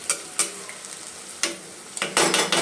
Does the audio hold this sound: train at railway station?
no